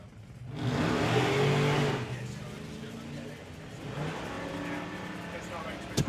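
A drag racing car launches off the start line, with a loud engine roar that swells and fades over about two seconds, followed by a quieter, rougher rumble farther away.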